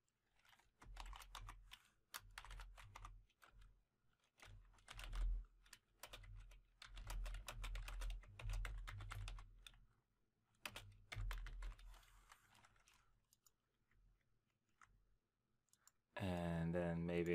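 Computer keyboard typing while writing VB.NET console menu code. Quick bursts of close, crisp key clicks are separated by short pauses, and a brief different sound appears at the end.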